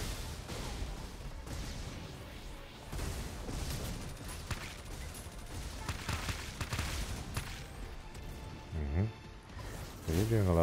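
Gunfire rattles through a Super Mecha Champions match, with dense bursts of shots and impacts running throughout, while a player talks over the action.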